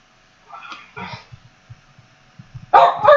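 A pet dog barks at a door indoors, giving a few short, moderately loud barks with quieter soft thumps between them and a louder double bark at the end.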